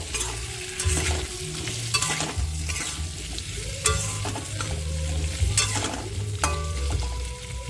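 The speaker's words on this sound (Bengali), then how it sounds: "আলুটা একটু ভালো করে ভেজে নেব" Potatoes frying in a pan and being stirred, with repeated spatula scrapes and knocks over a constant sizzle and a low stove hum, heard close and with no one speaking.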